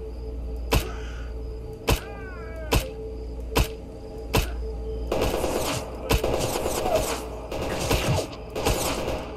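Gunfire in the Stalker Anomaly video game: single loud shots crack out at a steady pace about once a second, then give way to dense, overlapping bursts of rapid fire toward the end. No voices are heard.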